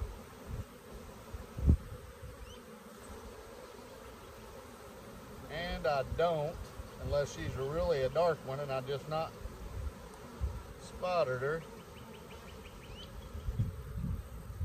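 Honey bees buzz around a swarm trap hive as the colony is handled, a soft continuous hum under a man's nearby speech.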